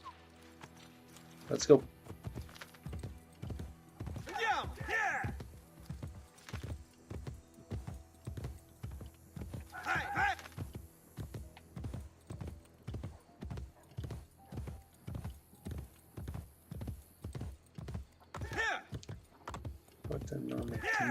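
A horse gallops in Assassin's Creed Brotherhood, rapid rhythmic hoofbeats clip-clopping steadily under the gameplay with occasional whinnies and other game sounds, while a player talks briefly.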